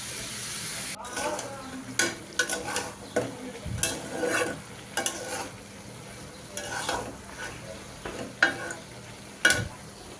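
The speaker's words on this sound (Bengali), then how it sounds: "মশলা দিয়ে একটু কষিয়ে নিচ্ছি, একটু মশলা দিয়ে আলু ভাজিটা করব।" Spiced potatoes fry in a pan with a soft, steady sizzle, broken by irregular scraping and stirring strokes from a utensil, close and fairly quiet.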